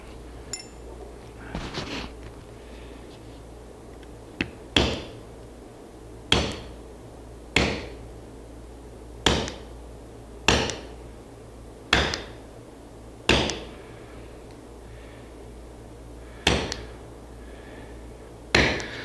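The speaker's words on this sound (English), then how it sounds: "Now you notice I'm using a little hammer." Sharp metallic taps from a small hammer striking a punch while building a pie safe, about a dozen single strikes spaced unevenly over a quiet room background, no talking.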